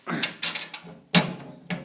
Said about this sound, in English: The door won't close.